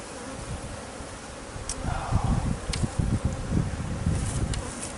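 A dense swarm of bees at a massive beehive being removed, their buzzing a thick, continuous drone up close, swelling and rippling with individual insects darting near.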